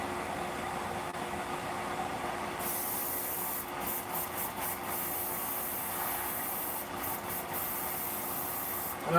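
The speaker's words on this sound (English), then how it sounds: "I'm just cleaning out the Tamiya paint with alcohol" Airbrush being flushed with alcohol to clear out Tamiya model paint, a steady close hiss of spray running throughout with brief breaks and bursts of flow partway through.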